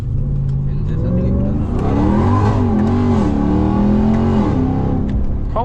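A RAM TRX Hellcat pickup truck accelerates hard, its engine roaring loud and close with pitch climbing, then dipping sharply at a gear shift before rising again.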